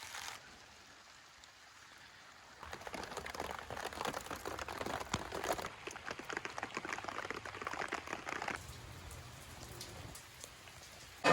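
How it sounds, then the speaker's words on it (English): Steady rain falls outside at an off-grid homestead. A soft patter swells into a louder, dense drumming on surfaces for several seconds, then eases back to a gentler shower. "So what do you do when it's raining out and you can't work on the shed?"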